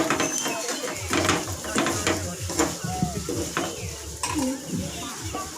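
Potato and gram flour fritters frying in a pan make a continuous sizzle, broken by spatula scrapes and light clatter as they are turned.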